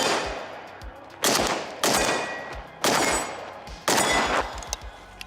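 A 5.56 milled AK rifle fires four loud, sharp shots at a steady pace about a second apart, each trailing off in a long ringing echo outdoors.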